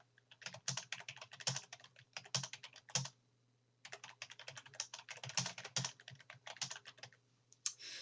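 Fast, irregular typing on a computer keyboard while editing in the vi text editor, a steady run of close, crisp key clicks with one brief pause midway and a low constant hum beneath.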